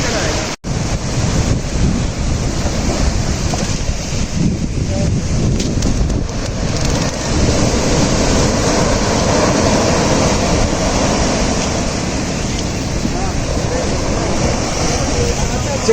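Sea waves wash onto the shore at Chabahar in a continuous loud rushing roar, with a sharp thump near the start and steady wind buffeting over the surf.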